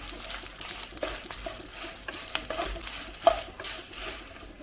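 Dried red chillies being stirred and heated in a pan, a close, irregular scraping and rattling of dry pods against metal with faint frying hiss, alone without talk.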